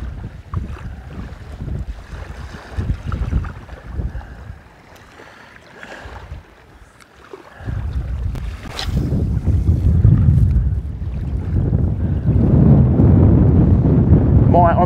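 Strong wind buffets the microphone on an Australian beach during shore fishing for whiting and bream, a loud, steady low roar that drops briefly before rising again and holding through the rest of the clip.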